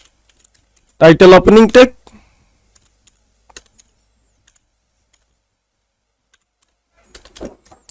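Sparse, faint key taps from someone typing HTML code on a computer keyboard, following a short burst of speech at the start.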